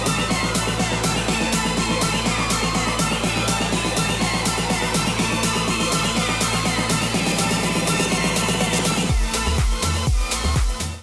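Loud electronic dance track build-up with a quarter-beat echo effect, rapid stuttering repeats over driving beats, then near the end the track cuts into a few heavy, separated thumping hits before fading.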